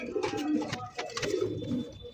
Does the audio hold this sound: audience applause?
no